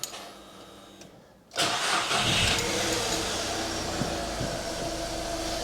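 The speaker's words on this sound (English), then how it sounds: "I'm going to start it up and just let it tick over." A 2008 VW Fox 1.2 petrol engine cranks briefly, catches with a sharp rise in level, then settles into a steady, fairly loud idle close by with no talking.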